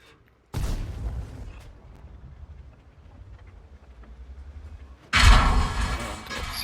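In World of Tanks, a GW E100 artillery shell strikes a T-62A tank: a sudden loud boom, a long low rumbling stretch, then a second heavy blast near the end, close and without talk.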